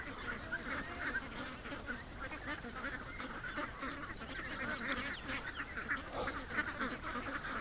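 A flock of ducks at a lake on a rainy day honks and quacks continuously, many overlapping calls forming a busy, fairly close chorus with no talking.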